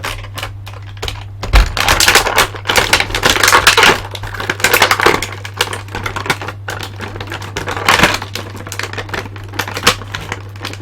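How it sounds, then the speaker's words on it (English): Meta Cooler action figure from the DBZ Movie Collection pulled out of its plastic packaging, with crinkling, tapping and clicking at close range continuing throughout, over a steady low hum. "I need to remove him gingerly from the packaging."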